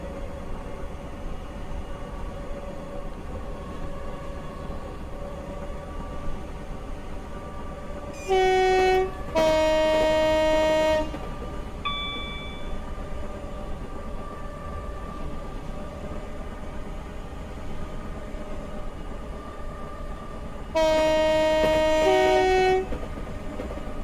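A Class 321 electric train accelerates through an 80 mph zone between Cheshunt and Stansted Airport in Train Simulator Classic. A steady rolling rumble runs throughout, broken by two loud two-tone horn blasts and a brief tone in between.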